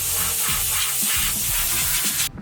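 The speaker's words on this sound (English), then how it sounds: "Then I just need to spray it with an air compressor because it'll evaporate real fast." Compressed air blasts onto a skateboard griptape job to evaporate alcohol-based Goo Gone, a loud steady hiss with pulsing bursts lasting over two seconds before cutting off abruptly.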